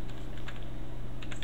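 Computer keyboard shortcuts being pressed during an IT fundamentals practical exam, a quick run of close, light key clicks over a steady low hum, with a few brighter taps clustered near the end.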